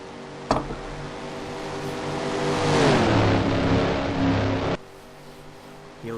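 Race cars roar past on the Daytona oval in a racing video game, engine tones building and sliding in pitch as the pack goes by, then cutting off sharply before the end.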